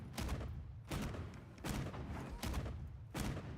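Wyvern Stake piercing shell attack in Monster Hunter Wilds, a rapid series of about five heavy, booming blasts at a steady rhythm, loud and close, with no talk.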